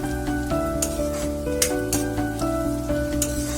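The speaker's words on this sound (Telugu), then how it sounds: "ఫ్రై అవుతా ఉన్నాయి ఆనియన్స్" Onions frying in a little oil in a pan give off a steady, close sizzle, with occasional brighter crackles and stirring clicks throughout and no voices.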